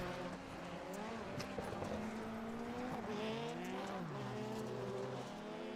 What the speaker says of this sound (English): The Monster Energy little Volkswagen Beetle getting at it here at Charlotte.